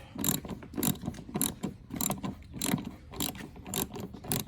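Ratcheting wrench backing out bolts on the rear bumper of a Toyota 4Runner TRD Pro, a steady rhythmic series of close mechanical clicks and pulls repeating roughly every half second, with no voices.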